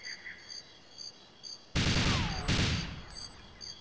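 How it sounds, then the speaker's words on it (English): Two sharp gunshots fired in the video game GoldenEye 007, arriving about three-quarters of a second apart as loud, bright cracks with a ringing tail, following quieter ambient jungle-level game sounds. "All right, I wasted two bullets."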